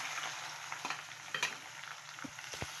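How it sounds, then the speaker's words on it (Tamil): Two chopped onions sautéing in a pan for chana masala, giving a quiet, steady frying crackle with occasional soft stirring scrapes and taps, close and low in level. "இப்போ கட் பண்ணி வச்ச 2 வெங்காயம் சேர்த்து வதக்கிக்கலாம்."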